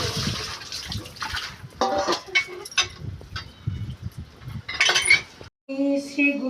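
Durva grass is rinsed by hand in water at home, with splashing and trickling in bursts and light clinks of a vessel close by. Quiet voices murmur in the background.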